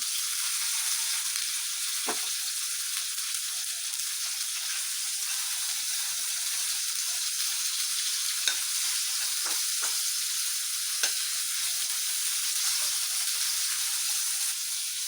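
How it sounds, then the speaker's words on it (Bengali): Prawns fry lightly in oil in a wok for chingri malai curry, a constant soft hissing sizzle with occasional faint utensil taps as they are turned, no talk. "মাছগুলোকে একটু উলট পালট করে ভেজে নেবো, খুব একটা ভাজবো না, হালকা নড়িয়ে নেবো।"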